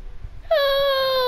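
A cat meows in the video game South Park: The Stick of Truth: one long, loud, drawn-out wailing meow that starts after a short quiet moment and holds steady until the end.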